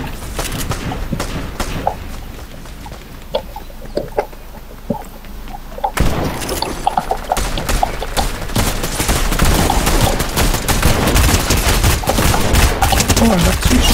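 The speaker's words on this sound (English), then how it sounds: "I got two shooting at me" Dense, rapid video-game gunfire with bursts of automatic fire and scattered single shots, steady and loud throughout and growing busier partway through, with faint background voices.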